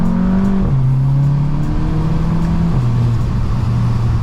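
A straight-piped Volkswagen GTI accelerates hard in second gear, its loud raspy exhaust droning continuously close by, with the engine note climbing and then dropping at the shifts.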